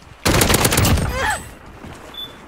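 Burst of rapid automatic gunfire in the video game Warzone, loud and close, lasting about a second before trailing off into quieter in-game effects.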